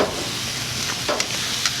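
Sausages on metal skewers sizzle on a hot outdoor grill, a loud steady hiss with a couple of brief scrapes and taps as they are moved around.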